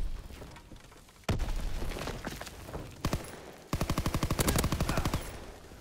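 Gunfire in a shooter game crackles in bursts: a sustained stretch of shots, a brief pause, then a rapid, evenly spaced automatic volley, loud and close.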